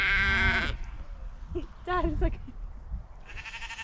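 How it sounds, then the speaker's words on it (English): Sheep bleat loudly at close range on a farm, one long wavering bleat at the start and another at the end, with a person talking in between. "That's sheep as well."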